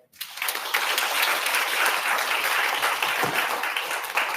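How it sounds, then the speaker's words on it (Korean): An audience at a university entrance-ceremony lecture on sustainable development bursts into applause after a short pause, a dense, even wash of clapping that holds steady to the end. "좋은 말씀 해주신 우리 소태영 운동화장님께 다시 한번 큰 박수 부탁드리겠습니다"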